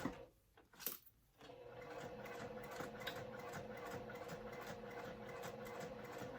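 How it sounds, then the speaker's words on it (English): A sewing machine stitches slowly and steadily while sewing the Lola, a faint, even mechanical hum with a regular ticking rhythm that starts after a few brief handling knocks. "Just sewing along."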